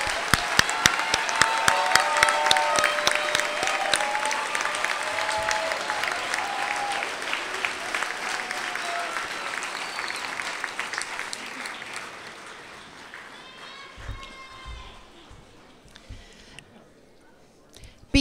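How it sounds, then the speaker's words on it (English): A graduation audience applauds Bachelor of Arts graduates at a university commencement, loud crisp clapping with cheers and whoops that gradually fades over many seconds, leaving scattered claps and faint voices near the end. "Please give a round of applause for our Bachelor of Arts graduates."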